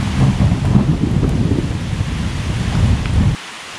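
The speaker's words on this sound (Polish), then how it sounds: "Takie gwałtowne deszcze i burze są zazwyczaj przelotne" A thunderstorm with heavy rain on a mountain trail along the Main Beskid Trail in Poland: low, rumbling thunder rolls under a dense, hissing downpour and gusts of wind, then cuts off abruptly near the end.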